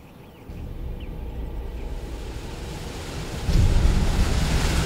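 Strong wind gusts roar steadily, rising louder partway through, with a rough, buffeting rumble and no voices.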